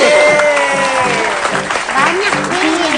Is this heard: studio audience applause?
yes